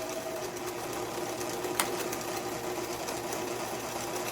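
A Juki model 632 rotary sewing machine with a heavy cast-iron body, built for thick fabric, runs steadily with an even mechanical whir and rapid stitching chatter, close and continuous, with one brief sharp click midway.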